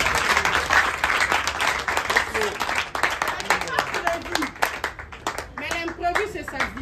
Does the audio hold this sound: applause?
yes